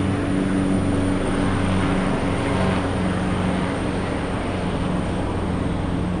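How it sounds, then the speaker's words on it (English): Steady droning rotor and engine noise from a helicopter flying over Macau Fisherman's Wharf, continuous and moderately loud with outdoor ambience and no talking. "That's a helicopter."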